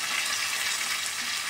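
Ginger, garlic and chili frying in oil for a homestyle tuna pickle give off a steady, close hissing sizzle that holds evenly throughout with no voices.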